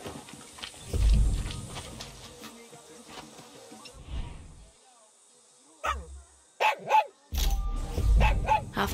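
Dog barking in the video game Far Cry 6, several bursts of barks and yips spread across the clip between quieter gaps, heard among game sounds and a speaking voice.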